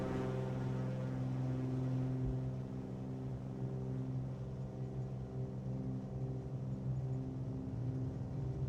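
Twin piston engines of a Cessna 414 in a flight simulator run at full power, a steady loud drone with strong harmonic hum that barely shifts in pitch, continuous and alone.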